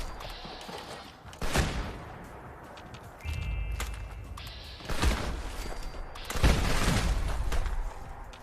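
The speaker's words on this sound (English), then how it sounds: "Shotguns sure are loud" Shotgun fire in Fallout 76 comes as several sharp, loud blasts spaced a second or two apart, with mechanical clatter between shots and no talk.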